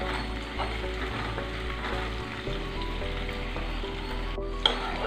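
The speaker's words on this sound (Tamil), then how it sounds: "இப்போ இது வந்து கொஞ்சம் நல்லாவே ப்ரௌன் கலராக ஆகிற வரைக்கும் நம்ம ஃப்ரை" Onions frying in a pan until browned, a steady close sizzle and crackle with a faint hum under it and a single sharp clink near the end.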